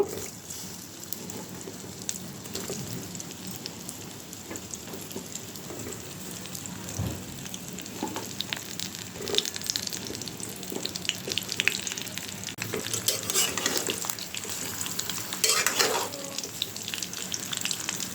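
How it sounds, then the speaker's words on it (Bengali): Mango pieces fry in hot mustard oil for a pickle, a continuous crackling sizzle like rain with scattered pops and a few louder stirring scrapes, moderately quiet and steady. "এটা গরম হয়ে গেছে এখন আমগুলি ভেজে নিব"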